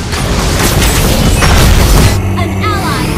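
A turret collapses in a Mobile Legends match with Popol and Kupa, a loud, dense booming crash that rumbles over continuous game noise before it thins out near the end.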